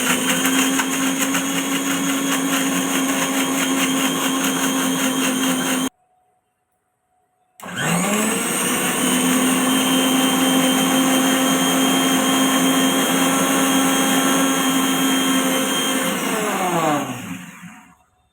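A mixer grinder whirs as it blends a cup of grated fresh coconut with a cup of water, a loud steady motor whine running about six seconds, a brief pause, then a second long run that winds down at the end.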